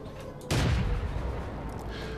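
A single heavy tank gun shot in World of Tanks: a sudden loud boom that rolls into a rumbling decay over about a second and a half, over steady background game noise.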